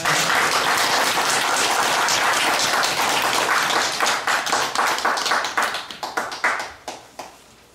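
Loud applause from an audience at a book launch event for a Buddhist monk, dense at first, then thinning into scattered individual claps that fade out.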